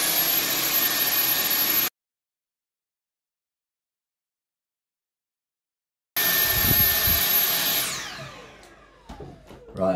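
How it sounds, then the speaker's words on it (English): A vacuum cleaner sucks dust out of a PC fan, a loud steady whining roar that cuts out completely for several seconds, returns, then winds down with clattering handling noises. "Right, so let's get all this vacuumed."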